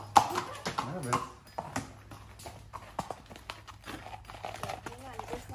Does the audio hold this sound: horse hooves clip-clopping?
yes